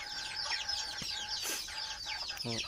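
Two red ring-necked pheasant hens cluck and call in their pen, sounding as scattered short clucks and chirps over a faint background with no speech.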